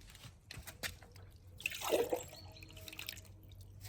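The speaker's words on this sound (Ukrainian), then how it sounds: "Відливаємо трошки воду." Water being poured off from a container while preparing an acidified soil solution for blueberries, heard as a soft trickling splash close by, rising briefly in the middle of the clip over a quiet background.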